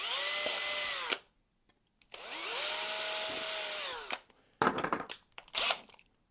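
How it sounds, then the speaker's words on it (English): A power drill bores out holes in 3D-printed plastic parts with a drill bit in two sustained whirring bursts separated by a pause, then brief scraping and handling noises near the end. "for everything that needs to get tapped, we'll first drill it out with the appropriate size drill bit"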